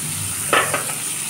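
Chopped carrots and onions frying in a pan for white pasta, a steady close sizzle broken by a few quick scraping strokes of a spatula stirring the vegetables.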